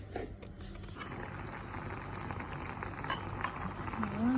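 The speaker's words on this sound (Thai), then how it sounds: "เดือดแล้วน่ากินมากเลย" A pot of squid with roe and black ink comes to the boil, a soft, steady bubbling and light pattering close by, faint overall with a few clinks near the end and no talk.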